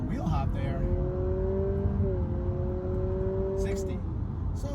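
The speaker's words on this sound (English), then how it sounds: "lights about to change, wide open throttle" A Honda Civic Hatchback Sport Touring hybrid accelerates hard at wide open throttle from a stop, its engine note climbing steadily in pitch under a constant road roar, with a person talking over it.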